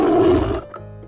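A tiger roars once, loud and close, in a children's alphabet phonics song; the deep, rough roar holds for about half a second and then quickly dies away, with no voices.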